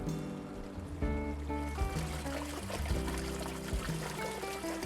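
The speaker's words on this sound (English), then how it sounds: "Its rhythmic water flow carries to the adjacent lawn" Water runs steadily along a long stone-walled reflecting pool in a garden beside a lawn, a continuous splashing trickle with a rhythmic flow and faint tonal hum beneath it.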